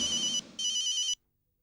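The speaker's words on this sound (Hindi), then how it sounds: "अंजना जी को ही फोन करता हूँ" A telephone rings in two short electronic trills, the second longer, then cuts to silence; clear and close in a Hindi TV comedy scene.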